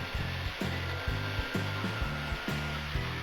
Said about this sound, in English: I started to cut out the outer outline of the large heart. I'm just using a jigsaw.